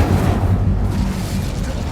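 Incendio fire spell cast in Hogwarts Legacy, a loud sustained roaring whoosh of flame with booming low rumble, close and continuous throughout.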